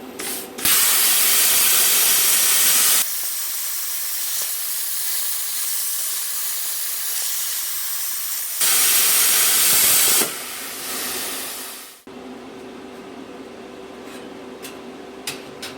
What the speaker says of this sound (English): I'm going to test to make sure that it actually fires off the plasma cutter